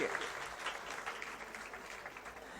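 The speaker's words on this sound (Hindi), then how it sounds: "मैं चाहता हूं आप सब अपने लिए एक बार जोरदार तालियां बजाएं" Faint, distant audience applause, a soft continuous wash of many hands clapping at a gathering, low in level with no voices over it.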